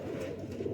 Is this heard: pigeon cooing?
yes